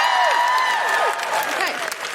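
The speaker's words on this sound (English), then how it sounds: "Big round of applause for Jill," A live audience at a comedy show applauds a guest coming on stage, a loud, dense round of clapping that runs steadily throughout, with a few whoops and a voice rising over it.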